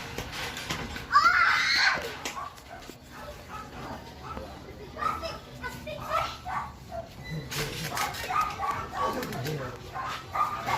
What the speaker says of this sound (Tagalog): Kaso, may mga aso sa labas.